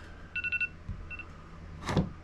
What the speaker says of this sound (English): That was my alarm to get up,